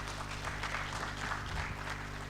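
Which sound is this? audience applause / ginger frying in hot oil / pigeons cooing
audience applause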